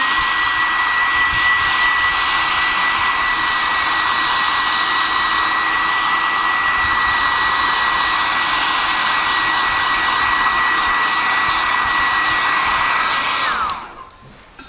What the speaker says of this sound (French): je vais donner un petit coup de séchage.